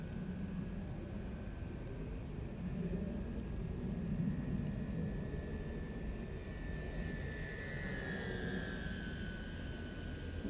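An electric radio-controlled model airplane flies over a Fort Worth model field. It makes a faint, steady motor whine over a wash of outdoor noise, and a high tone glides downward near the end.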